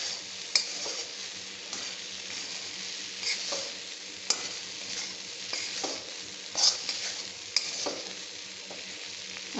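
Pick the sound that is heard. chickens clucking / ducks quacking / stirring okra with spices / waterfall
stirring okra with spices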